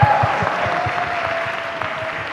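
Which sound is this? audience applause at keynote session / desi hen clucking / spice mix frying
audience applause at keynote session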